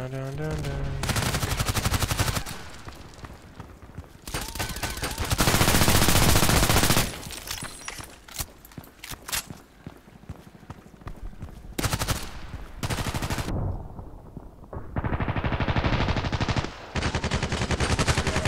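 The PDR-C submachine gun in the shooter game Contract Wars fires in rapid full-auto bursts, several long loud volleys separated by short gaps and quieter game noise.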